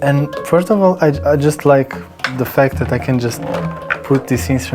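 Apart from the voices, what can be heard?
No distinct noise like a dog, phone or traffic.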